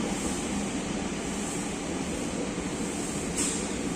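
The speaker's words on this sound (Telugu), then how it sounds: "మనకి నర్సాపురం నుంచి విజయవాడ వెళ్ళే ప్యాసింజర్ వచ్చింది భీమవరంలో" A Narasapur to Vijayawada passenger train at Bhimavaram station in Andhra Pradesh makes a loud, steady rumble and roar heard up close, broad and continuous throughout, with no voices.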